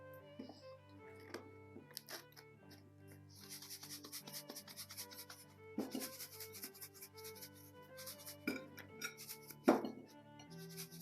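Salt is rubbed by hand onto damp potato skins, a faint close scratchy rubbing that comes in uneven strokes with short louder bursts.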